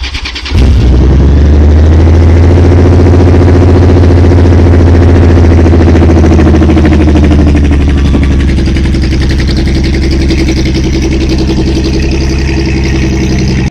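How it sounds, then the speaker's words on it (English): A Honda Rune motorcycle engine starts and settles into a loud, steady idle close by, a deep rumbling throb that holds evenly throughout with no voices. "Let's get a sound check for this bike."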